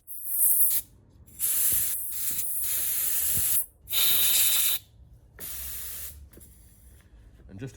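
Aerosol cleaner hisses in several loud, close bursts onto the throttle body idle control valve of a Citroen C1, Peugeot 107 or Toyota Aygo, with short pauses between sprays and a softer final burst.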